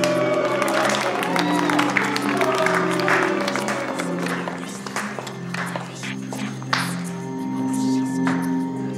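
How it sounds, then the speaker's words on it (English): A studio audience on a dating show applauds as a woman comes on stage, steady clapping layered over sustained background music with tonal notes. "Give her a round of applause."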